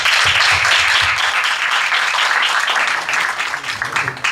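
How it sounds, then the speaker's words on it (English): Audience applause at a forum in Portland fills the room, a dense steady wash of many hands clapping close by and loud throughout, with a few lower thumps and faint voices mixed in. "Let's have a round of applause for everybody"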